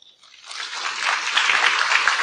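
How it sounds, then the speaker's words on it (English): Audience applause at a tech conference greeting a speaker on stage, starting thin and swelling within half a second into steady, dense clapping that fills the room and holds to the end. "Big round of applause"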